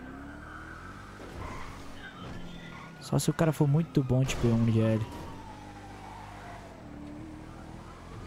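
Police car engines in GTA RP drone and rev, with a rising whine in the background, while someone talks over them.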